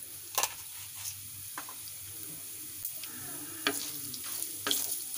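Two green chillies and a tablespoon of pomegranate seeds fry in hot oil, a quiet steady sizzle with scattered light pops and occasional stirring clicks, close but faint, no voices.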